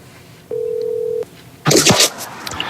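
One steady telephone tone sounds for under a second in a quiet line, then a burst of louder broadband noise follows, heard while a phone call connects during a live broadcast.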